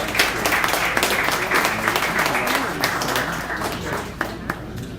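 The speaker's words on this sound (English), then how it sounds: "Let's give ourselves a big round of applause." A jazz club audience at a Juneteenth celebration concert claps in a dense, steady round of applause that stays loud throughout, thinning slightly toward the end.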